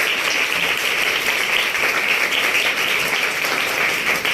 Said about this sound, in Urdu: آئے خدا ان کے جلال کے لیے زوردار تالیاں بجائیں۔